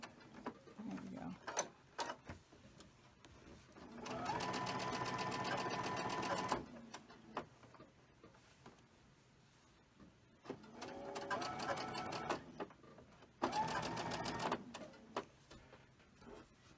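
A sewing machine stitches a quilt at close range in two steady, whirring runs a few seconds long, separated by quieter handling sounds and brief pauses.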